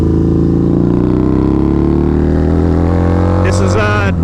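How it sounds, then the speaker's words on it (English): A 2002 Harley-Davidson V-Rod motorcycle runs loud and close while riding, its engine note rising steadily as it accelerates, with wind noise throughout and a rider's voice partly over the engine. "This is a 2002 Harley Davidson vrod."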